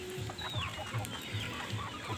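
Free-range village chickens on a small home-scale farm cluck in low, repeated bursts at a steady pace, with a thin bird whistle rising faintly above them and no voices.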